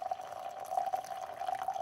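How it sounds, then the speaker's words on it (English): A honey lemon drink being poured into a mug: a soft, steady trickle with a gently rising filling tone, faint and close, with no talking. "all you really got to do is pour it in"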